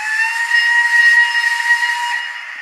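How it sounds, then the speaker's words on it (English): A model train's simulated steam whistle from a station announcement program blows one loud, steady, high-pitched tone with hiss for about two seconds, then tails off. "We'll now press a whistle."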